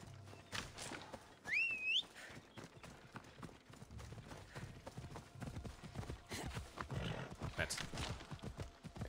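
Hooves clip-clop in the Assassin's Creed Odyssey video game as a horse moves along at a brisk, uneven pace, with a neigh-like call early on and someone talking over much of it.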